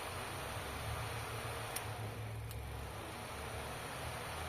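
A car's AC blower motor spins in a steady, faint whir during a bench test, with a couple of soft ticks over a low hum.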